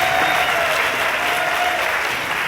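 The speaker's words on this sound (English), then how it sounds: "let's give a round of applause to all the deans, the directors, the managers of our college" A convocation audience at a college breaks into loud, sustained applause, a thick even wash of clapping that continues without pause.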